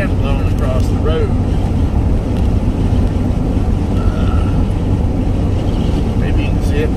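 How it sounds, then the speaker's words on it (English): Strong wind gusts across a California desert road with sand blowing over it, a loud steady roar and rumble of wind buffeting the microphone from start to end, with faint voices underneath. "It's definitely windy today."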